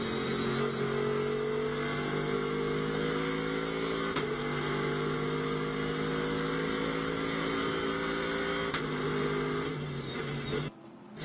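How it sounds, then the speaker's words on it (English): A race car at the Total 24 Hours of Spa holds a loud, steady engine note that climbs through each gear, with two sharp gear changes cutting in; no one speaks. "Just listen to the gears and just how cool this car sounds."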